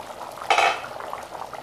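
Lima bean curry being handled in a cooking pot, with one short clink of a utensil against the pot amid quiet background.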